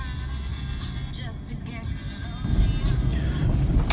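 Steady engine and road rumble of a car heard from inside the cabin while driving, low and continuous, swelling louder in the second half.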